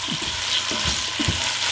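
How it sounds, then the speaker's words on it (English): Peppers sautéing in a pan at a campsite for chicken fajitas: a constant bright sizzle close by, broken by a few soft stirring scrapes, with no talking. "I'm going to take our peppers and just toss them in. And we're going to saute it until they're mostly tender."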